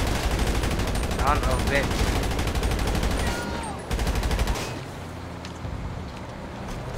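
Sustained gunfire in GTA 5 aimed at armored vehicles, a dense rapid rattle of shots that cuts out briefly then gives way to quieter rumble, with a man swearing over it.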